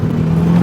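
A 200bhp L-series MG ZR accelerating in third gear, a loud, steady engine drone that swells slightly as the revs climb over a short moment, heard from inside the car with no talk.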